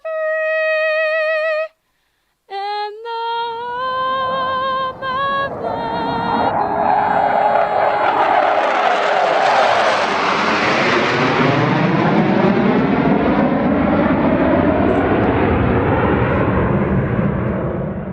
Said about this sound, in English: Big thanks to the virtual Thunderbirds for the flyover this evening